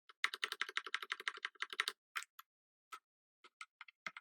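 Rapid computer keyboard typing while code is deleted: a dense run of quick keystrokes for about two seconds, then a few scattered, sparser key taps, close and clear with no talking.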